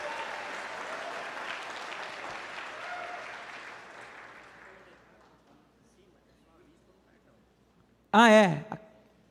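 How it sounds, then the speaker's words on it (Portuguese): A church congregation claps in sustained applause that gradually fades over several seconds, with a voice sounding over it, followed by a brief loud burst near the end. "você que pode, aplauda ao Senhor pela palavra de Deus"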